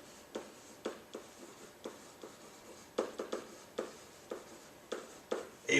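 A chord label being written during a music theory lesson, heard as a series of short, close scratchy strokes in an irregular rhythm, each a brief pen or marker mark, with no voice over them.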